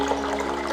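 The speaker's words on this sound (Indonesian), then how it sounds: "suara riak dari air yang mengalir di sini ya" A small stream of water ripples and trickles like a tiny waterfall, a soft, continuous burble at moderate distance with no speech.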